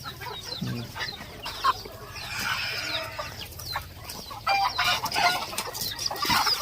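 Caged white-eared decoy chickens kept as ornamental birds cluck in short, irregular calls at close range, with scattered fowl noises and faint rustling throughout and no talking.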